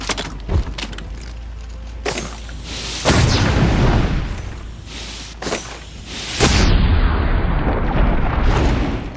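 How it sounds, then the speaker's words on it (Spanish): Heavy booming explosions from the Horizon Zero Dawn Frozen Wilds video game, several loud bursts with whooshing rushes and a thick low rumble filling the stretch between them, close and forceful. "Una explosión."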